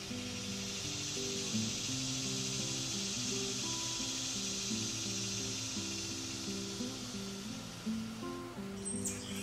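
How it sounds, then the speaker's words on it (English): Cicadas, true bugs whose males chorus with timbal organs, fill the air with a steady high-pitched buzzing drone that holds for several seconds before fading slightly, with softer layered tones underneath. "Those are cicada bugs."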